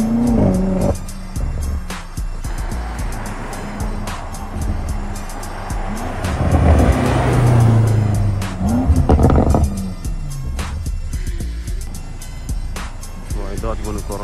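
A BMW M5 F90 roaring through a burnout, engine revving up and swelling to a loud peak midway with tyre noise, then easing off, while someone talks over much of it.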